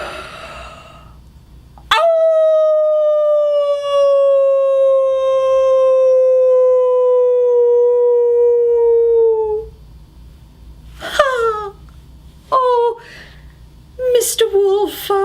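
A voice imitates a wolf howl, one long sustained wavering note of about eight seconds that slides slowly downward, loud and close, followed by a few short yelping rises.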